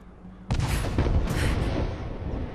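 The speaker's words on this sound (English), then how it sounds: "Hi there, random explosion." In Rise of the Tomb Raider, a sudden loud explosion bursts in after a quiet moment, followed by a sustained rumbling roar and crackling debris that lingers at high level.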